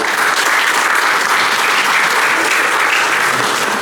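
Steady, loud applause from an audience fills the whole stretch without pause.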